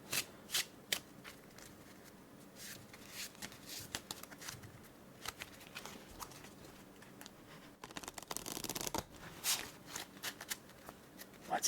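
Playing cards being shuffled in several bursts of riffling and flicking, close up and fairly quiet, with a louder riffle near the end and no talking.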